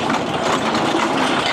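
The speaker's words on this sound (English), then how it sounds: "this old tractor just idles down so nice" An old farm tractor engine idles steadily in road gear, a continuous broadband rumble with a rough, uneven beat that holds at the same level throughout, with no voices.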